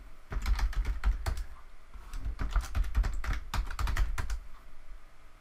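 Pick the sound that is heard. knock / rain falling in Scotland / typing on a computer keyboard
typing on a computer keyboard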